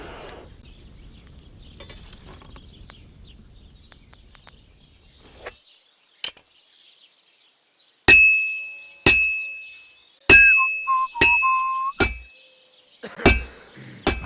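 Hot metal is hammered on a blacksmith's anvil in Kingdom Come Deliverance 2. About eight sharp, ringing metallic strikes land at a steady pace, each with a bright decaying clang, after a quieter stretch of soft sizzling and clinking.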